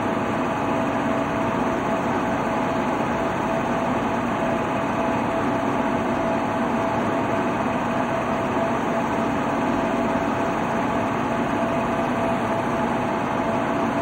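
An Indian Train Simulator locomotive runs on the Jammu Tawi to Pathankot route under a 20 speed limit, giving a steady, loud engine drone with a constant high whine and no breaks.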